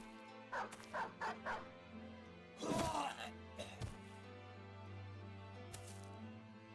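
A dog in the video game Battle Brothers gives a rapid series of four short barks, then a loud yelping burst and a couple of fainter yips, heard close over a low humming game background.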